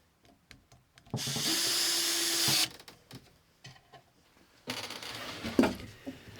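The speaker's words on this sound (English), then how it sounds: "fixing it to the fascia, driving small screws through the back of the drawer box rebate" A power screwdriver whirs steadily for about a second and a half, driving small screws through a wooden drawer box into its fascia, then stops; later a shorter burst of tool noise with clicks and knocks nearby.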